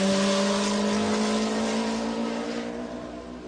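A race car pulls away at the 1995 24 Hours of Le Mans, its engine holding a loud, steady high-pitched drone with a whining gearbox that is failing, close, then slowly fading.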